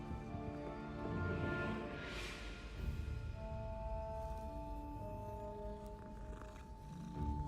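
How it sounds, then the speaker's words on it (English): A cat in Hogwarts Legacy purrs softly in a low, steady rumble, with quiet game music tones ringing over it. "That's a cat."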